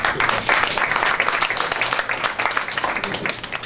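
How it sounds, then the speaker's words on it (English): Audience applause at a charity benefit for women and children against illiteracy, poverty and Ebola, a dense, steady wash of many hands clapping that fills the room for several seconds without a break. "Please give a round of applause."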